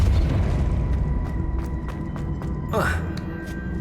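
The Depulso spell firing in the video game Hogwarts Legacy, a quick swooping whoosh with a soft boom standing out from a busy background of ambient rumble and scattered light clicks.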